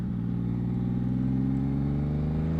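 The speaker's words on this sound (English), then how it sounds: "revving it up" A Yamaha MT-07 motorcycle engine holds a loud, close, steady rev with a smooth, even drone and a slight rise in pitch over a few seconds, alone with no voices.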